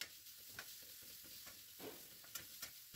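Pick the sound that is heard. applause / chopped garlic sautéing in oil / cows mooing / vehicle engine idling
chopped garlic sautéing in oil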